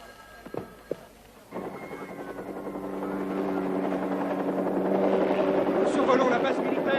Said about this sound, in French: On a quelqu'un là-bas en hélicoptère.